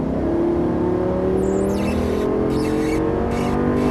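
A Lamborghini Gallardo Superleggera LP570-4 accelerates on a race track, its engine note rising steadily, loud and close, with a high whine drifting over the roar.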